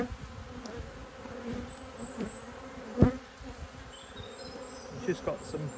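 Honeybees buzzing at an open hive frame bringing in pollen, a steady dense drone of many bees close by, with a few individual bees flying past near the end.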